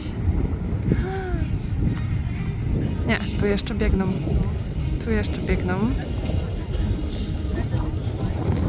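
Strong, steady wind roars across the microphone on a mountainside during an 18 km mountain running race, a constant buffeting rush with people talking over it throughout.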